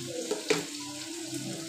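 Vegetables are stirred and fried in a pan for a Bengali fish chorchori, a low, soft sizzle with a couple of faint utensil clinks, quiet and short.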